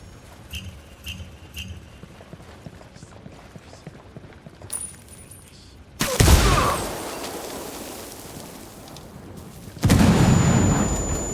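C4 charge detonating on a stockpile in Ghost Recon, a sudden loud blast that rumbles on for several seconds, then a second heavy explosion follows, set against faint quiet ambience before the first boom.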